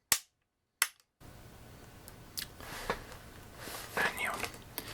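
A handgun's trigger pressed and fired, giving two sharp isolated cracks at the start, followed by softer metallic handling clicks and rustles close by, with faint whispered voices.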